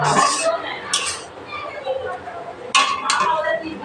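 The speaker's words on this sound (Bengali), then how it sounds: "চলে এসেছি ছন্নি নিয়ে চাউমিনটা নাড়াতে" Spatula scraping and clinking against a wok while chow mein is stirred, with metallic bursts at the start, near one second and near three seconds, close and fairly loud, with a person talking throughout.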